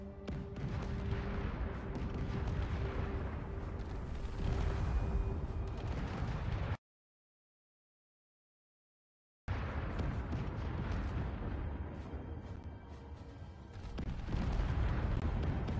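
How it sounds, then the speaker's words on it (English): Heavy explosions and cannon fire from space combat in the StarCore video game thunder in dense chain-reaction bursts, distorted and clipping, cut by a few seconds of total silence before the booming resumes. "I think it's like some chain reaction explosion causing it."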